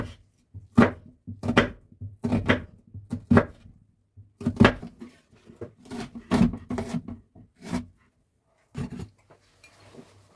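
A knife chops carrots on a cutting board in quick bursts of sharp, close taps, pausing briefly between runs.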